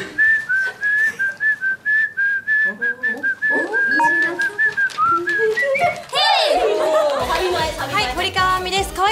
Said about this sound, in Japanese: 口笛します。